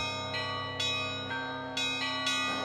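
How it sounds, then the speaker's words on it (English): Russian concert bells cast by Blagovest Bells ring in several bright struck strokes about half a second apart, their sustained overtones overlapping and ringing on between hits, fairly faint and alone. "These bells here were made in 2014 for me in Blagovest bells, specifically for performing in public concerts."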